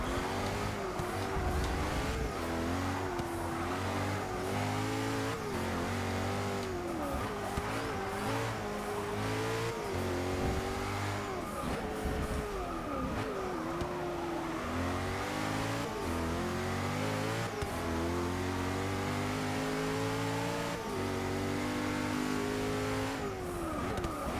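A race car engine in Forza Motorsport 6 revs hard through repeated gear changes, loud and continuous, rising and falling with brief tire squeal throughout.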